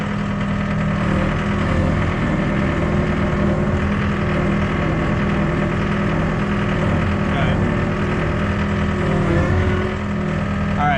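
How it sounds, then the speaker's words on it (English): A skid steer loader drives and turns while fixing a driveway slope. Its engine runs loud and close with a steady mid-pitched rumble and slight revving shifts, and there is no clear talk over it. "So that was my first time using a skid steer, and let me just say that was pretty cool."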